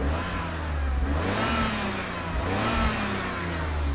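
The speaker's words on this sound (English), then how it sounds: "Let's hear the engine." A V12 BMW E32 750iL, on the road for the first time in years and running rich, revs and pulls under load, its engine note rising and falling in two smooth surges from inside the car.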